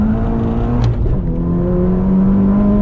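A Volkswagen Scirocco R with a stage 3 tune making 480 hp revs loudly and up close, its steady engine drone rising in pitch with a brief sharp burst near the start, alone with no talk.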